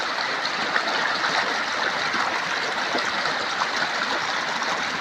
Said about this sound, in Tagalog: buhay na buhay ang tubig, mga idol